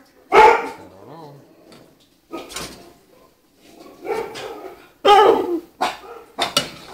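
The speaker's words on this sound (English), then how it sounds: "Oh, the dogs are jealous. They want food, but they can't have any of this." Dogs in a home kitchen bark for food in several loud, sharp bursts spread over the moment, with whimpering yips between, while a person talks over them.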